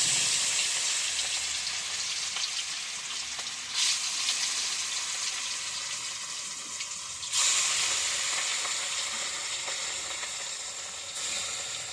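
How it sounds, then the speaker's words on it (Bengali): Fish frying in hot oil in a wok, a soft steady hiss and sizzle heard close by, with a few brief surges in intensity. "প্রথমে আমি মাছটা ভেজে নেব।"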